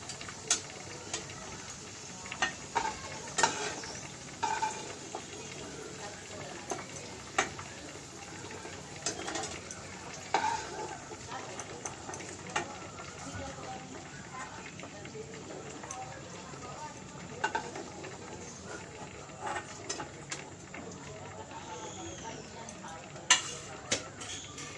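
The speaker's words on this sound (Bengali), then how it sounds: "আমি এবার ওল ভাজাটা তুলে নিচ্ছি।" Elephant foot yam fries in oil in a pan, a steady broadband sizzle running throughout while a spatula stirs and lifts the pieces with scattered clinks and scrapes, close by, with a voice speaking over it at times.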